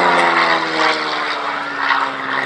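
A de Havilland Chipmunk propeller plane flies past at a Shuttleworth airshow, its engine a steady, loud droning hum with a buzzing propeller tone that swells slightly and holds throughout.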